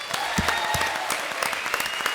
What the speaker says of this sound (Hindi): जी के लिए एक बार जोरदार तालियां।